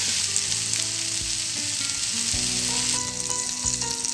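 Paneer tikka cubes sizzling in a hot pan, a steady close crackle with occasional thumps and scrapes as pieces are turned over.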